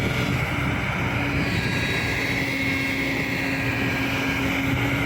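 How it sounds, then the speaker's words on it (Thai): A loud, steady engine roar from an SK200-10 excavator drones on without a break, with a strong low hum and a broad mechanical rumble and no voices. "เสียงเครื่องยนต์กระหึ่มครับ"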